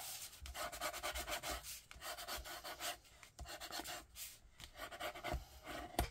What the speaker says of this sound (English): Need to give that tear tape a rub down.